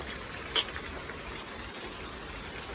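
Steady morning rain patters in a soft, even wash, with one brief sharper drip or tap standing out near the start; no voices.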